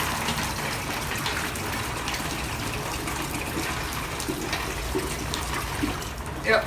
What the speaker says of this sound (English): we're gonna go over here and we're gonna just give them a little water